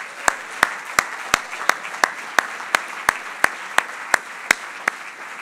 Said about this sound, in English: So one last round of applause for the FSGA staff.